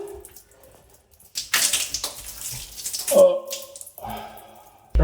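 Water from a shower splashes and runs while a surface is rinsed during a hard-water stain cleaning, arriving in uneven loud bursts after a quiet start, with a voice briefly audible.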